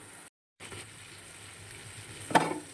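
Crab frying in oil in a pan, a steady soft sizzle with a brief gap, then a louder burst of stirring near the end.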